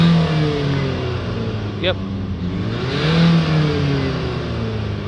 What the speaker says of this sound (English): So we'll give it a couple of hard revs.